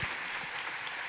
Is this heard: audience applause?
yes